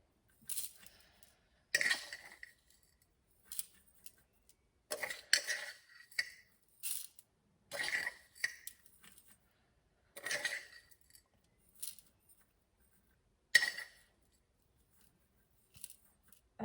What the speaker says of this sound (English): Here, I've just got some rock salt in here, and I'm just going to put it in